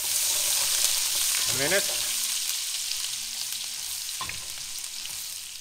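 Chicken and ginger sizzle and fry steadily in a pot for arroz caldo, a loud continuous crackle with a couple of brief stirring scrapes, and a voice speaks briefly over it.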